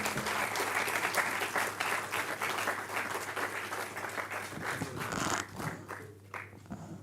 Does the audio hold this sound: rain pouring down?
no